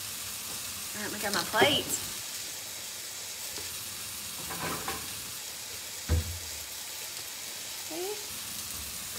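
Eggs fry in a pan with a steady, close sizzle running throughout, while a person speaks briefly and a few clinks of utensils rise above the hiss.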